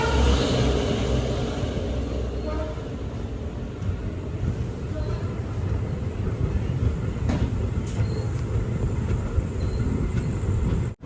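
The Maveli Express pulling out of Cheruvathur railway station, a loud continuous rumble of carriages and rails with wind buffeting the microphone and faint voices in the background throughout.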